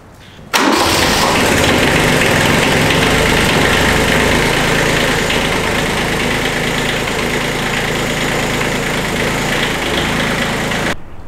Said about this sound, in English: If the tractor's been sitting for more than 10 hours, start it up.